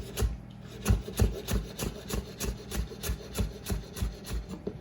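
A knife shaves green onions into thin strips on a cutting board, giving a steady run of close, crisp rasping strokes at an even rhythm, roughly two or three per second, with no talk.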